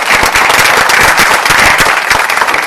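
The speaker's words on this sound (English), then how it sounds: "please give them a round of applause" An audience breaks into dense, loud applause, a steady roar of many hands clapping close by for the full length without pause.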